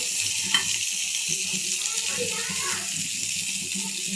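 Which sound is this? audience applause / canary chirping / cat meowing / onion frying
onion frying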